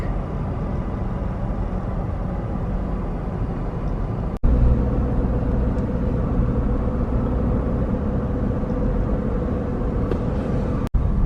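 Car cruising along a scenic route near Zion, a steady low road-and-engine rumble heard from inside the cabin, continuous and fairly loud with a brief dropout partway through.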